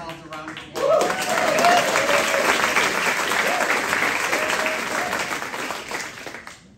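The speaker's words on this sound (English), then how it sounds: "You should give yourselves a round of applause." An audience at a literary event in Sacramento bursts into sustained, fairly close applause that carries evenly for several seconds before tapering off, with voices heard briefly under the clapping.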